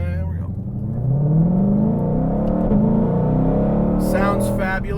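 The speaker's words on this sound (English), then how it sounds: "Sounds fabulous on cold starts. Dual mode exhaust." A 2020 Shelby GT500 engine revs and settles into a deep, steady rumbling idle nearby through a dual-mode exhaust, with some higher noise bursts near the end.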